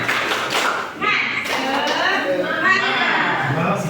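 Schoolchildren in a fractions math class do a rhythmic spirit clap, patterned bursts of hand claps and taps mixed with kids' voices chanting and chattering close by.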